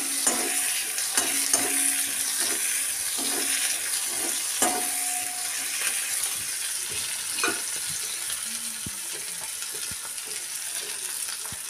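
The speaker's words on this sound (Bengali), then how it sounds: "দিয়ে পেঁয়াজগুলোকে খুব ভালো করে আমি এখানে ভেজে নেব" Chopped onion frying in a little oil in a pan for a fish curry, a soft steady sizzle broken by scraping stirs and occasional clinks of the spatula, close and alone.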